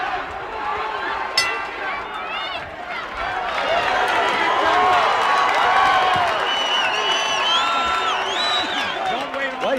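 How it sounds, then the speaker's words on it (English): Boxing crowd during a bout between Phil Jackson and Keith McKnight: a broad, sustained wash of cheering and applause that swells midway, with a commentator's voice talking over it. "Well, you got to feel this crowd is applauding him."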